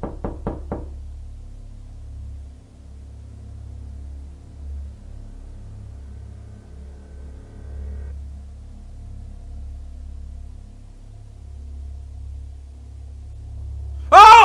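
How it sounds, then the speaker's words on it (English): Three quick hard knocks sound sharply at the start, followed by a long stretch of low rumbling room tone, with a loud burst at the very end, all from a horror clip. "It really sounded like someone was knocking in my room."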